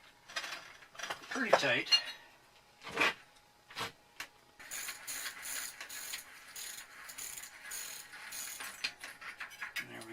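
A wrench turns a splined tool on a bicycle wheel, giving scattered metallic clicks and ratcheting clatter in short bursts, followed by a longer run of rhythmic mechanical clicking. A person speaks briefly.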